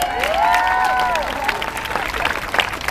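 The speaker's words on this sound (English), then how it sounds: "Give us a round of applause." A crowd at Venice Beach claps and cheers loudly, with rising whoops and whistles carrying over steady applause for a few seconds.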